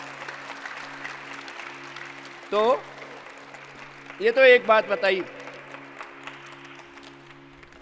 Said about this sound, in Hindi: एक बार जोरदार तालियां बजा दो भाई इनके लिए